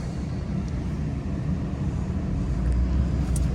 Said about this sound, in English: Looks like it's idling pretty good.